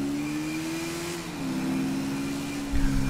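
Honda XRE 300 motorcycle engine in GTA V, a steady mid-pitched drone holding fairly constant with a slight pitch shift partway, then a brief louder low rumble near the end, with no talk.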